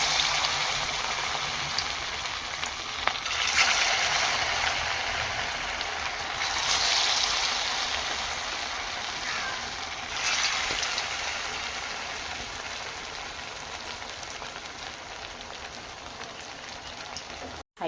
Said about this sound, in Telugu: ఇప్పుడు ఒక కళాయిలోని నూనె బాగా వేడి చేసుకొని ఇది ఒక్కొక్కటి కూడా మనం డీప్ ఫ్రై చేసుకోవాలి